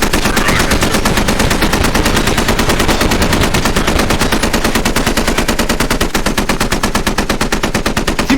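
Sustained automatic 30 mm turret cannon fire from a ULD vehicle in a military video game, a loud, rapid, unbroken stream of evenly spaced shots that carries through the whole stretch with no talk.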